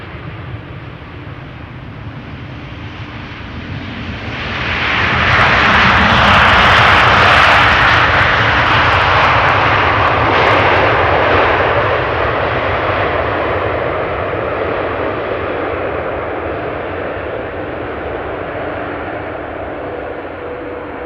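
A brand-new airliner at Amsterdam Schiphol Airport rumbles loudly, its engine roar swelling from a steady drone to a powerful peak after a few seconds, then slowly easing off while staying strong and continuous.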